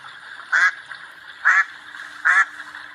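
A duck gives three short, nasal quacks, evenly spaced about a second apart, clear and close against near silence.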